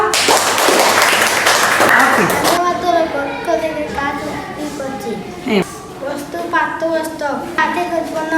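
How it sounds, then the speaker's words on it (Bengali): A classroom of children claps for Mim and her team: a burst of loud, dense applause for about two and a half seconds, followed by children's voices speaking. "মিম এবং তার দলের সবার জন্য হাততালি দাও"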